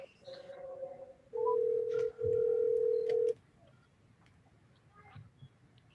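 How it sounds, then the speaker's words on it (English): A telephone line during a city council webinar call: short dialing tones, then two long steady ringback tones with a brief gap, followed by quiet room background. "Let me go ahead and dial him now."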